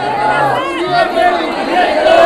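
Angry crowd of protesters gathered in large numbers, a dense roar of many overlapping voices shouting and chattering at close range, steady and loud throughout with occasional swells.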